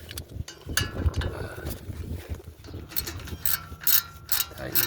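A hand ratchet clicks steadily while tightening a front brake caliper bolt on a 2008 Honda Odyssey EX-L during a brake pad replacement, a close, repetitive ratcheting with brief pauses.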